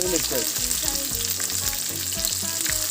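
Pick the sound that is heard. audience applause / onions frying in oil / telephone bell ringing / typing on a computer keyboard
onions frying in oil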